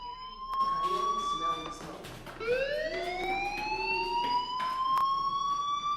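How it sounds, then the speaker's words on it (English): A fire alarm in the video game Life Is Strange sounds loudly with wavering, rising electronic tones that repeat continuously, with brief clattering noises mixed in. "Hey, do you hear that fire alarm? That means you should be outside."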